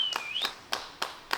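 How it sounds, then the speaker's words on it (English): A handful of sparse, separate claps from a small group of spectators at the Belgian Open disc golf tournament, about five distinct hits spread out slowly, with a brief whistling tone near the start. "Little hype, little clapping."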